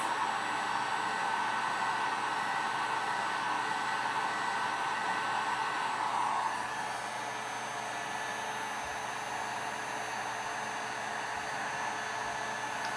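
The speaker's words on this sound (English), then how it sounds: "Now these heat guns and the stainless steel tumblers are a dangerous combination" A heat gun blows continuously while applying HTV vinyl to a stainless steel tumbler, a steady, close whooshing hum that softens slightly partway through.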